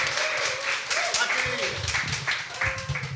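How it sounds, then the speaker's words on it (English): Audience applause at the opening of a young political leaders training program and public lecture: a steady, broadband wash of clapping across the whole stretch, with a voice speaking over it. "give a big round of applause"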